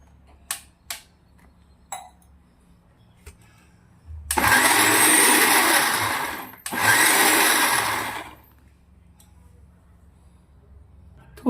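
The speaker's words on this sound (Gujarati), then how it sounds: "હવે આપણે આને થોડું પહેલાં પીસી લેવાનું છે" A kitchen blender grinds coriander stems with whipped cream for a banana kofta curry, roaring loudly in two bursts of about two and three seconds separated by a brief pause, after a few faint clicks.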